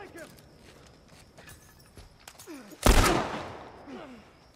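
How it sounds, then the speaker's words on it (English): Video game gunfire in The Last of Us from snipers firing from high up: scattered faint cracks, then one loud close blast that trails off, with faint clatter and movement sounds around it. "Where they shooting from?"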